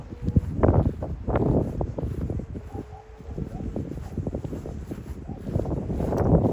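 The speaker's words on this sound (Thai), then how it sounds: "ลมเบาลงแล้วไม่เอียงครับ" Wind blows while a large Thai Chula kite flies in England, a steady rumbling gust noise buffeting the microphone with rustling and crackling throughout, loud and close.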